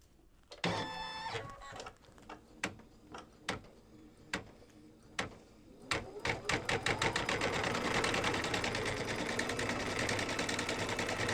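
An embroidery machine stitches a bunny outline on an in-the-hoop reverse applique bib, starting with a few separate clacks that quicken into a dense, continuous rapid stitching rhythm.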